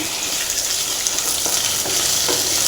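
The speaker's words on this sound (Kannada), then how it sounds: "ಈಗ ಇದು ಚೆನ್ನಾಗಿ ಫ್ರೈ ಆಗ್ತಿದೆಯಲ್ಲ" Potatoes with curry leaves fry loudly in a pan, a dense, steady sizzle heard up close with faint stirring.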